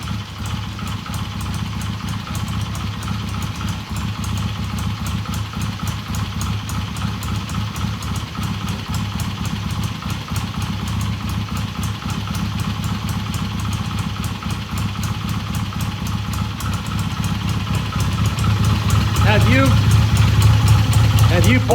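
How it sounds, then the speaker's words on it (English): A BSA A65 motorcycle engine idles with a fast, even putter, growing slightly louder toward the end, with voices faintly audible underneath. "It's actually idling."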